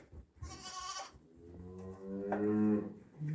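In a barn holding sheep, a farm animal gives two calls, a short nasal cry followed by a longer, lower drawn-out call, both fairly close and heard alone.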